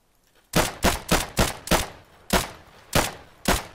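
Rapid gunfire in the video game Escape From Tarkov: a burst of eight loud, sharp shots at uneven intervals, close and dry, with brief pauses between groups.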